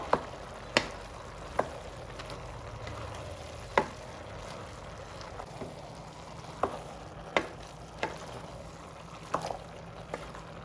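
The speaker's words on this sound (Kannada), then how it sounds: "ರುಬ್ಬಿರೋಂಥ ಮಸಾಲ ಹಾಕ್ತಾ ಇದ್ದೀನಿ ಮಸಾಲೆ ಕೂಡ ಚೆನ್ನಾಗಿ ಮಿಕ್ಸ್ ಮಾಡ್ಕೊಳ್ಬೇಕು" Ground masala frying in oil for bamboo shoot gojju, a soft continuous sizzle broken by sharp, irregular clinks of a spoon against the pan as it is stirred, close and without speech.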